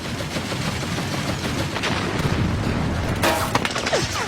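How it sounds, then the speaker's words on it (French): World War II anti-aircraft guns open fire on approaching American Pershing tanks, rapid overlapping gunshots and heavy booms merging into a continuous, loud barrage. "Les blindés américains approchent et se font immédiatement pilonner par les canons de DCA."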